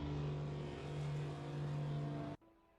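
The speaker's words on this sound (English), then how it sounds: "Miles Defoe 616 just exited the pits in 25th place." Race car engine from a video game race with iconic sports cars, a loud steady engine drone with a revving edge that holds for over two seconds, then cuts abruptly to a quieter background hum.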